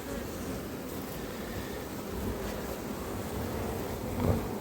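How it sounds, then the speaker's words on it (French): Honeybees buzz steadily across the frames of a nucleus hive being prepared for winter, a close, continuous low drone with a slight swell near the end. "Donc tous les cadres sont occupés par les abeilles ou vont l'être très rapidement"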